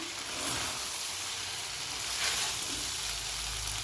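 Fried rice with chopped egg being stir-fried and tossed in a pan, a soft steady sizzle with light scraping of the spatula, fairly quiet and without talk.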